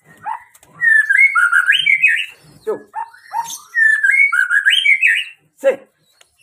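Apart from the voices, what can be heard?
magpie robin (murai) songbird calling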